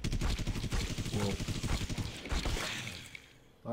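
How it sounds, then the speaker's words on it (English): Rapid gunfire in The Walking Dead: No Man's Land game, a dense burst of repeated shots in quick rhythm, loud and close, tapering off toward the end. "A lot of gunshots going on."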